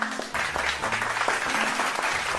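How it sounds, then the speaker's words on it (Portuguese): Crowd applause in a football club setting, a dense, steady wash of clapping from many hands, sustained throughout with faint voices mixed in. "Vamos aplaudir."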